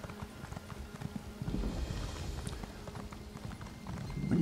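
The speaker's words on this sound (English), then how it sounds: "Come here, my horse." Horse hooves in the Elder Scrolls Online video game, a steady rhythmic clip-clop of a single horse at close range, growing louder partway through, with no talking.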